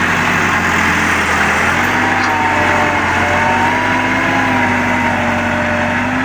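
A large farm tractor runs steadily nearby, its engine a continuous loud drone with a low droning hum and a slowly rising whine, holding unbroken throughout with no talk.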